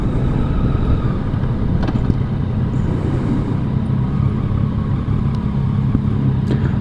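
Yamaha FJ-09 motorcycle on a demo ride: a steady, loud engine drone with heavy low rumble and wind noise throughout, close up and constant with no clear gear changes.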